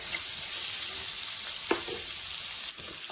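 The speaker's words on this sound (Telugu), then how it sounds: "ఆనియన్స్, కొంచెం ఫ్రై చేసుకున్నామండి." Onions frying in a pan for a ridge gourd and peas curry, giving an even, bright sizzling hiss up close, with a couple of brief clanks of stirring partway through and no talking.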